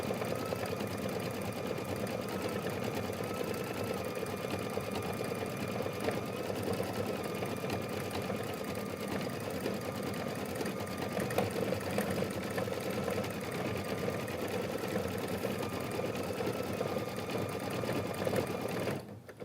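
An embroidery machine stitches a decorative quilt stitch with a steady, rapid whirring hum that continues evenly at close range and stops abruptly at the end.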